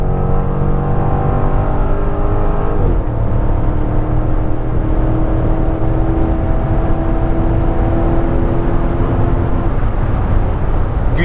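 A Chrysler 300C 6.1 SRT8 V8 pulls hard downhill on an open road, its engine note rising and shifting through a long, steady acceleration heard from inside the car, with no one talking.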